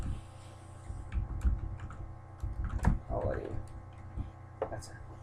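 Typing on a computer keyboard while setting up a Fiverr account: soft, irregular key clicks in a quiet room, close and fairly faint, with a low steady hum underneath.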